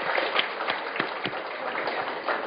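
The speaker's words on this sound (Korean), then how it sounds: "여러분 시장님께 격려와 감사의 큰 박수 부탁드립니다." Scattered audience applause for the mayor at a rice farmers' association training event, fairly faint and thin with a few distinct claps over a soft crowd wash.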